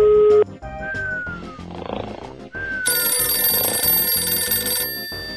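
Phone ringing in a meme animation, a loud electronic ringtone with bright warbling tones in repeated bursts over a steady backing beat, without speech.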